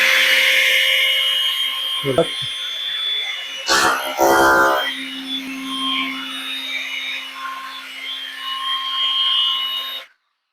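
Riker RBC 20V cordless string trimmer whirring at a high steady pitch, with brief knocks and handling noise in the middle, close and fairly loud, cutting off sharply at the end.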